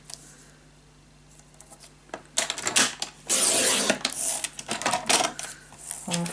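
Close, sharp ticking and scraping come from paper being scored on a scoring board for a lace mini album, in quick bursts that grow denser midway, with faint talk at the start.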